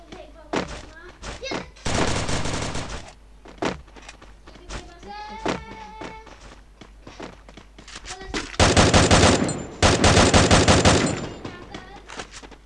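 Gunfire in a shooter video game, with loud, dense bursts of automatic fire in several clusters, the heaviest near the end, between single thuds and quieter game sounds.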